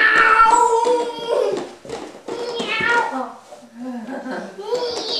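A voice imitates a cat, meowing repeatedly in high, drawn-out cries, mixed with other kids' chatter and giggles nearby.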